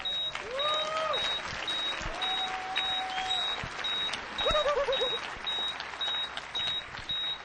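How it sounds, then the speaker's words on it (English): Audience applause fills a conference hall after a demonstration of a homemade biofeedback video game, a dense continuous clatter of clapping heard over electronic beeps repeating at a steady rate and several rising and falling synthetic tones. "Give him a round of applause."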